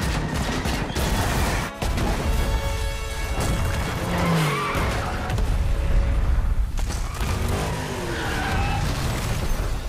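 An interactive car chase from The Matrix Resurrections game demo, with roaring engines, tire squeals, skids and crash impacts mixed into a dense, loud action soundtrack throughout.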